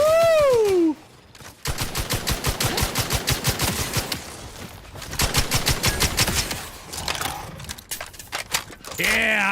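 A gun fires in The Outer Worlds 2 in long sustained automatic bursts of rapid, evenly spaced shots, loud and close. A rising whine opens the clip, a short pause splits the firing, and brief voice sounds come at the end.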